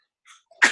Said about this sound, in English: Sorry, she's coughing.